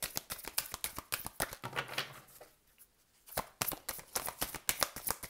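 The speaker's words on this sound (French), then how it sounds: "Bon, on va les remettre ici, ces cartes-là." Tarot cards being handled and laid out, giving a quick run of crisp flicks and soft slaps, close and fairly quiet, with a brief lull midway before the rapid shuffling resumes.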